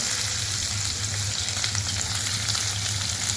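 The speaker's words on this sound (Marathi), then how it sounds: "त्याला व्यवस्थित आपण फ्राय करून घेऊया" Chopped onion and curry leaves fry in a generous amount of oil for sev bhaji, making a steady, dense sizzle with stirring underneath and no talking.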